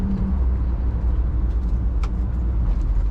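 A 1955 Chevrolet Bel Air Convertible engine runs steadily while driving on dry winter roads, a loud continuous low rumble with road noise and no talk.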